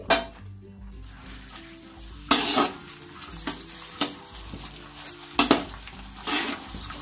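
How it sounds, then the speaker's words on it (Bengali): Chopped capsicum, cashews and raisins lightly frying for fried rice, a soft sizzle punctuated by sharp spatula knocks and scrapes against the pan at irregular intervals, no voices. "হালকা ভেজে নেব।"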